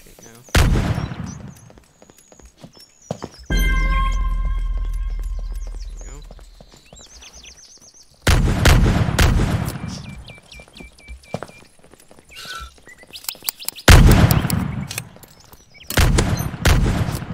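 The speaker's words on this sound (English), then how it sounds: "I feel like someone's shooting at me and I'm gonna get sniped any second now." Gunfire in the video game Pirates VS Ninjas cracks in bursts among clattering hoofbeats and other game sounds, with people talking over it.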